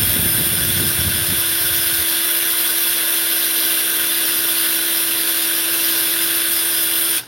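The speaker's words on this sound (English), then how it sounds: "Drill time!" A power drill runs continuously with a steady high-pitched whine for several seconds, then cuts off abruptly.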